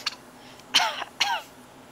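A woman coughs and gasps for air after being released from a grip in a parking lot, with two harsh, raspy coughing bursts following a faint short gasp, close and fairly loud.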